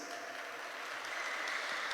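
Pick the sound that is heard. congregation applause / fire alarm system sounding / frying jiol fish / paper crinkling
congregation applause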